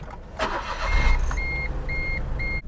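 A Smart Fortwo Passion car being started and readied to drive, a brief engine turnover and low idle rumble followed by a repeating electronic chime, heard from inside the cabin with no speech.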